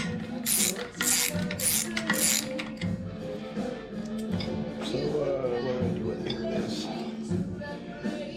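Ratcheting clicks and metallic gear sounds from tightening a bolt on the clutch of a 1976 Harley-Davidson FLH under restoration, close and continuous, with a voice audible in the background.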